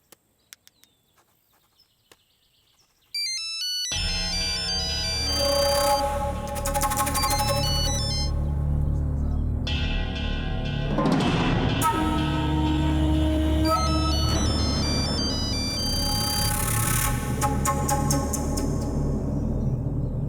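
A telephone rings on and on without being answered, a bright repeating ringtone melody that plays loudly and alone throughout, with no talk over it, in a Bhojpuri family drama scene.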